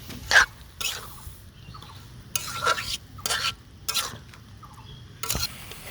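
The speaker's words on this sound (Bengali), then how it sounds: "আমি মাছ, আলু, টমেটো সব একসঙ্গে কষিয়ে নেব" Boal fish, potato and tomato sautéed together in a pan, with a spatula scraping and stirring in short separate strokes over a faint sizzle; close and alone.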